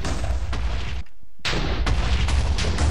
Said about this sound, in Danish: TNT. Ting eksploderer.